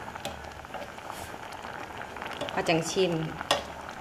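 Green curry with lemongrass bubbles in a pot, a faint sizzling simmer with a few clinks of stirring near the end, and someone speaks briefly.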